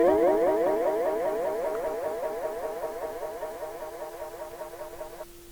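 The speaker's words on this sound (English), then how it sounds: "I then added a guitar effect" A guitar effect sweeps through a transition in a 70s soul sample: a warbling, wavering tone of repeated swooping pulses that slowly fades, then ends in a thin sustained pitch, with no voice over it.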